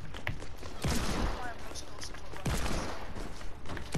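Dense rapid gunfire in a shooting video game, a continuous barrage of close, loud shots with sharp bursts near the start and middle, voices faintly underneath.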